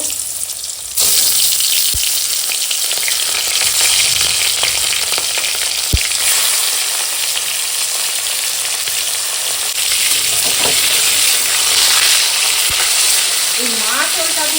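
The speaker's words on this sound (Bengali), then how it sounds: "ভেজে দেবো" Small fish coated in salt and turmeric sizzle and crackle steadily in hot oil, a constant close frying hiss with occasional pops and faint clinks, no talking.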